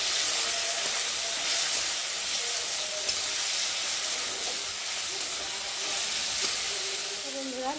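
Plum chutney with salt and turmeric being stirred and fried in oil in a pan, giving a continuous, even hiss with faint scraping now and then, close and steady throughout.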